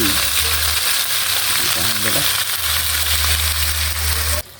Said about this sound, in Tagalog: dapat prito muna may sa mantika mga idol para masarap yung putsiro po natin